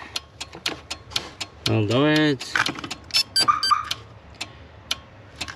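A Viper 5903V car alarm system newly installed in a Mk4 Toyota Supra clicks repeatedly in sharp, irregular ticks and relay snaps, close up, around a brief electronic tone and someone speaking.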